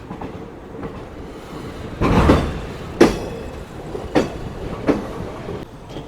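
The Vanchinad Express, hauled by a P4 locomotive, runs out of Ernakulam in Kerala, heard from aboard: rail joints clatter in a series of loud, spaced clacks over a low rumble, with no speech.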